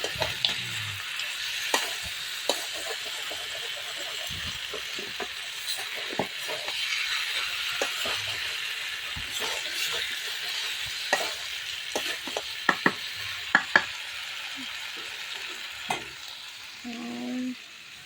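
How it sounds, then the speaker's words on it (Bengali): Meat and potatoes cooking in a pan give a long, even sizzle with scattered utensil clicks and scrapes, moderately close, ending with a brief clatter. "এখানে আছে আলু দিয়ে মাংস রান্না করা হচ্ছে"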